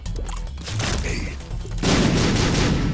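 Bombs exploding in The Binding of Isaac, a rapid cluster of booming blasts and crashes, loud and close, building into a dense heavier roar in the second half.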